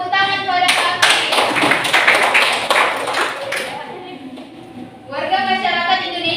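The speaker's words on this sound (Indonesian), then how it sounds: "Makasih tepuk tangan kepada kami." A burst of clapping from a small classroom group, several pairs of hands clapping briskly for about three seconds before fading, with speaking voices following afterward.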